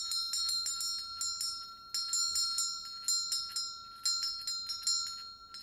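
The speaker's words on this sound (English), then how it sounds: "pointing out how loud the bell is" A bright, loud shop bell rings rapidly in repeated bursts, with brief pauses between clusters of strikes.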